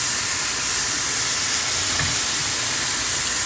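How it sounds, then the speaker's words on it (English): Ground pork sizzling in a pan, a loud, dense, steady hiss of frying meat that holds evenly throughout with no talking. "You just fry up a pound of ground meat."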